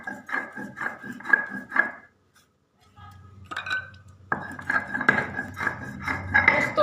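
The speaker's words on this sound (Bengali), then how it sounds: "পোস্তটা শিলে বেটে নেব।" Poppy seeds are ground on a stone slab with a stone, giving rhythmic scraping and clacking strokes in short bursts, a brief pause, then renewed grinding over low background hum.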